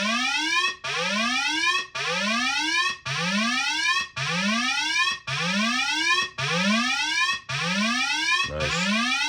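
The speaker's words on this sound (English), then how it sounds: "And you get those cool 8-bit video game sounds." A repeating chiptune-style 8-bit square-wave pattern played through a 1974 Fender Twin Reverb amp, with rising pitch sweeps that repeat about every second, loud and buzzy, and a brief glitchy burst near the end.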